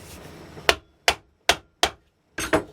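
A tool strikes a 7-inch double-petal firework ball shell casing to pop a hole for a magnet: four sharp, evenly spaced knocks, then a quick double hit, close and loud against a quiet background.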